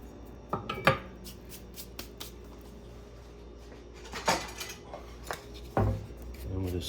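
A spoon spreads a cup of brown sugar across a pan for a pineapple upside-down cake, producing scattered scrapes, taps and gritty rubbing strokes, a few louder knocks against the metal, close by.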